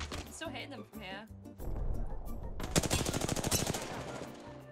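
Rapid automatic gunfire in Apex Legends, a sustained rattling burst of shots, loud and close, with a voice talking just before the firing starts.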